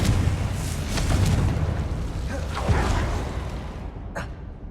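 Confringo spell explosions burst in Hogwarts Legacy, a dense sustained rumble with several booming impacts and whooshing swells, ending in a brief sharp crack.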